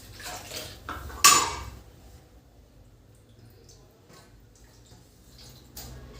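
Metal spoon stirring Indian curry in a cooking pot: a few scraping clinks and one sharp metallic clank near the start, then quieter faint scrapes and a final clink, close by.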